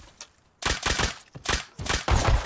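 Revolver shots from the online survival game Rust, a loud, close burst of rapid repeated gunfire in several sharp volleys with no voices over it.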